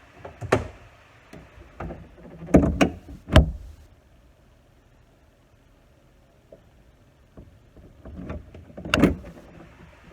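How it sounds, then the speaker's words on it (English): A 2018 Mustang GT hood, fitted with a Whipple supercharger setup, closes onto the airbox with a few separate dull thumps and clunks spread across a quiet stretch, near and fairly loud. "I could actually feel the hood hit the top of the airbox"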